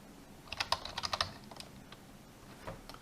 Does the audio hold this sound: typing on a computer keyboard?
yes